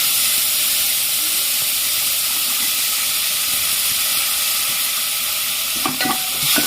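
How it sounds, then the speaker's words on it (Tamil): Mixed vegetables for a kadamba sambar stirred in a hot pan, giving a loud, continuous hissing sizzle close up, with a few scraping clatters of the spoon near the end. "இப்போ இதெல்லாம் வந்து நல்லா கிளறி விட்டுலாம்"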